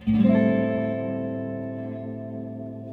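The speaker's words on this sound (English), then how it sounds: "introduces a varying kind of modulation that is applied to the repeats only" A single sustained electric guitar note rings out through a Jack Deville Electronics Dark Echo delay pedal, its repeats shimmering with a gentle wavering modulation as it slowly fades.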